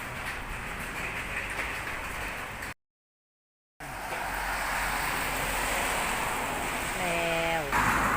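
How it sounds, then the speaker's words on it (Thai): Hail falls during a summer storm in Sakon Nakhon, Thailand, giving a dense, continuous hiss of pattering impacts with a brief break in the middle and a voice heard briefly near the end. "ได้ยินเสียงบ่จ๊ะเสียงหมาเห็บตก"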